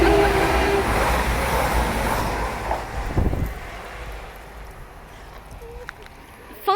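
A fast HST train rushes through Bedford station with a loud rumbling roar and clatter that slowly fades, while a person speaks nearby over the noise.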